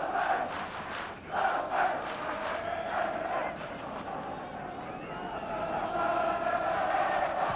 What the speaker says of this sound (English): The crowd give him the bird.